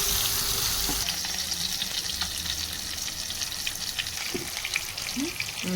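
Fish frying in a pan until brown, a steady close sizzle and crackle with faint stirring scrapes throughout, no voices.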